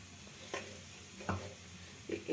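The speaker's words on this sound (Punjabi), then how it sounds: "ਇਸ ਦੇ ਵਿੱਚ ਆਪਾਂ ਹਿੰਗ ਪਾਵਾਂਗੇ ਤੇ ਕਾਲੀ ਮਿਰਚ ਪਾਵਾਂਗੇ" Brief sizzles and stirring as asafoetida and black pepper hit hot oil in a pan for black urad dal khichdi, three short crackling bursts over a steady background hiss.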